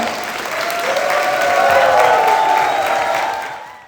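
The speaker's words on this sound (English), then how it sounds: "Round of applause for Mitsuki Sensei." Audience applause at a U.S. Taido 50th anniversary gathering, with dense clapping and a few whoops swelling to a steady peak mid-way and then tapering off near the end.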